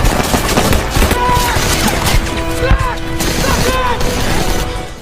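Loud, dense video game combat from an AWM sniper rifle, with sharp gunshot cracks and impacts layered over continuous background action and chatter-like noise.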